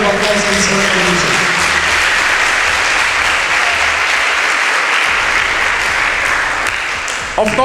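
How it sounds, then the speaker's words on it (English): A hall audience at a debate event bursts into loud, sustained applause, dense clapping that runs steadily for several seconds with only a slight fade at the very end. "The person of Mr. Osogbo will be round of applause for this recognition."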